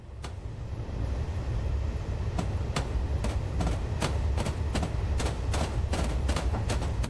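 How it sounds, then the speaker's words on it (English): Narrow gauge gravity train coasting downhill on the Ffestiniog line in Train Simulator: a steady low rolling rumble broken by a series of sharp, irregular clicks and clacks from the wheels, with no voices. "And down the hill we go."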